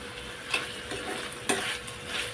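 Ground masala paste is mixed into ivy gourd bhaji in a pan, a steady sizzle broken by two distinct scraping stirs of a spoon, close and unaccompanied by speech.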